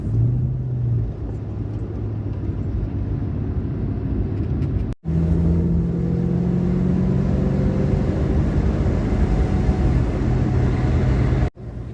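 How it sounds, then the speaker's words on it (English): A red Ford Mustang with air conditioning cruising on the road, a steady, loud engine drone and tyre rumble running throughout, briefly cutting out twice. "Got to drive the red car first."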